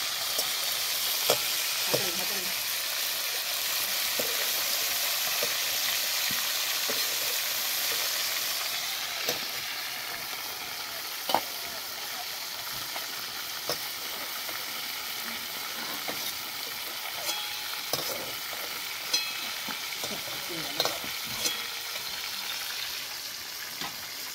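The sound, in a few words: cauliflower frying in oil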